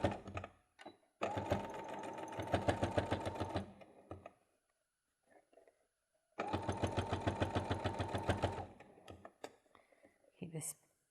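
A sewing machine stitches a bag near its lining in two long, steady runs of rapid needle chatter, separated by a quiet pause, with brief handling noises around them and soft speech nearby.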